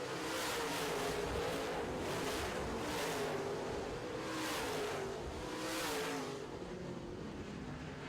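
Modified race cars roar around a dirt oval track, their engines forming a loud, continuous broadband drone that swells and fades in repeated waves as the cars pass, with no voices.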